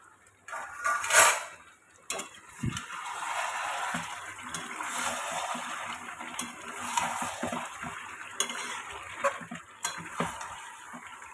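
Chicken kosha stir-fried in a covered pan: soft sizzling and spoon scraping against the metal, with a few sharp clinks of the lid and utensils, fairly quiet and close.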